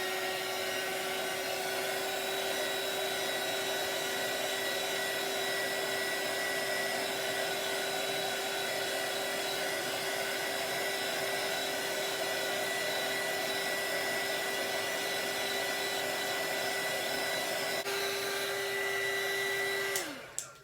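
Heat gun blowing steadily on an epoxy resin bloom flower, a loud constant whirring airflow with a fixed motor hum that runs unbroken for about twenty seconds and then cuts off at the end, no talking.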